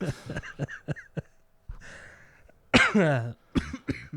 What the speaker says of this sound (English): Oh man, I have a cough.